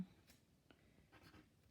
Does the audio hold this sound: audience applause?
no